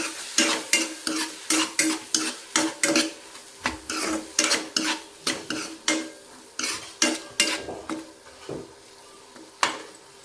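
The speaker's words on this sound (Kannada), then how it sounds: "ಒಂದು ಸ್ವಲ್ಪ ಗರಂ ಮಸಾಲ ಹಾಕಿ ಚೆನ್ನಾಗಿ ಮಿಕ್ಸ್ ಮಾಡ್ಕೊತೀನಿ" Garam masala being stirred into egg curry in a pan: brisk, rhythmic spatula scrapes against the metal, about twenty strokes, over a light sizzle.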